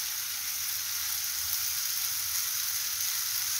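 Silver fish omena frying with spices in a pan, a steady bright sizzle running unbroken and close while being stirred.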